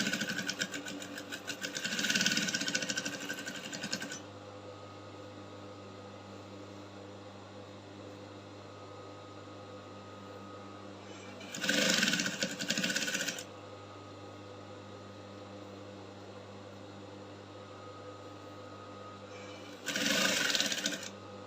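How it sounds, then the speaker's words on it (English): A sewing machine stitches a bustier seam in three bursts of fast, steady mechanical whirring and chatter, close by, separated by long stretches where only a low steady hum remains. "So I will just sew in now. I'll back stitch and follow my already existing stitches."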